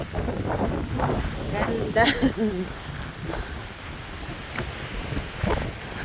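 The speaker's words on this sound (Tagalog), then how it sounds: "Pag hinahangin tayo, grabe yung hangin." Strong wind buffets an outdoor spot with fresh air, a steady gusty roar with microphone rumble throughout, while people talk and exclaim over it close by.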